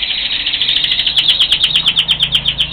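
Dense, rapid chirping from many small birds in an aviary, a steady busy chatter of overlapping calls close by with a pulsing rhythm, no voices.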